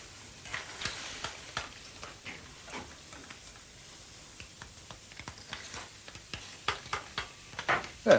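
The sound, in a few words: sauce with clams and Dijon mustard bubbling and simmering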